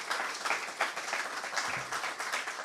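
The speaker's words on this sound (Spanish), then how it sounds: "le damos un aplauso." Brief round of clapping from the audience at a technology innovation event after a project presentation, steady mid-distance applause with no talk over it.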